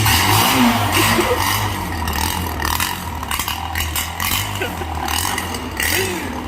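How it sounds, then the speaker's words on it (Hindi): A 15-year-old LML Freedom motorcycle engine, kick-started cold, runs at a rough, thumping idle close by, with some clattering and background noise mixed in. "आवाज देखो भाई बाइक की"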